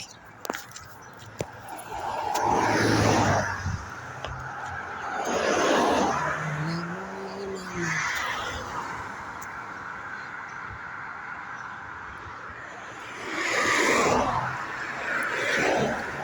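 Road traffic on a two-way street, heard while waiting to cross: several vehicles swell and pass close by in waves, with steady background hum between passes and a brief tonal sound midway.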